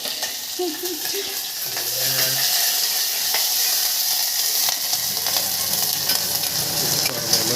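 Hot oil sizzles and crackles loudly and continuously as spices are tossed in to temper a peanut and potato khichdi, a close, hissing fry with faint stirring sounds.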